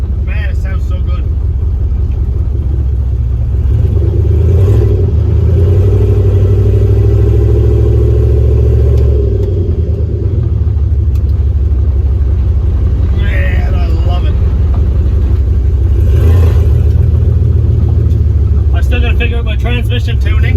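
Deep, steady exhaust rumble from a turbocharged LS-powered Caravan idling loud and near, with a mild rise in revs partway through and brief higher noises over the drone.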